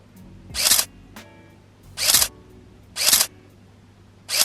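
Camera firing a burst of four shots, each a loud, close whirring shutter-and-drive sound lasting about a quarter second, spaced roughly a second apart over a faint background hum.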